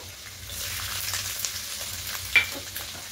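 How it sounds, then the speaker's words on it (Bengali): Garlic and ginger sizzling in oil in a pan while cooking chilli soybean, a steady crackling fry with a few sharper pops and stirring sounds, close and moderately loud with no talking. "এবার এখানে দেব রসুন কুচি, দেব আদা কুচি"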